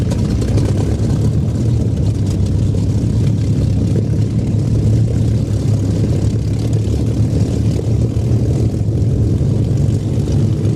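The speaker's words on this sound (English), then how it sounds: "the best sound in the world, it's the sound of Merlins." Loud, continuous drone of Rolls-Royce Merlin piston aircraft engines, a steady throbbing roar with no pauses or voices.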